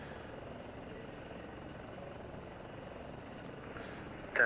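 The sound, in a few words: aircraft departing in a flight simulator video game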